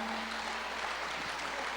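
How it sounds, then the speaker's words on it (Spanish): Church congregation applauds its music group, a dense, steady clapping from a crowd in a hall, brief and moderately loud. "Un aplauso a los chicos"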